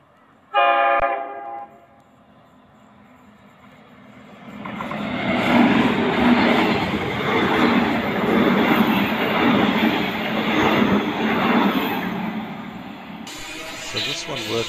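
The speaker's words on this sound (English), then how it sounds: "Okay, here comes the train." A train sounds a short horn blast, then passes close by with a loud, sustained rumble and clatter lasting around ten seconds before easing off.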